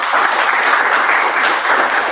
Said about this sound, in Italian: Facciamo anche un applauso a loro.